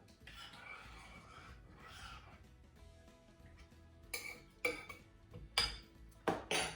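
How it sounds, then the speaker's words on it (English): A spoon stirs chicken soup with cheese in a pot, giving several sharp clinks and scrapes against the metal in the second half, preceded by softer sloshing and shuffling. "You just give this a quick stir."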